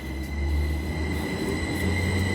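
A train at Cambridge station, on the line to Ely, gives a steady, loud rumble with faint high wheel squeal above it. The sound is heard alone, without talk.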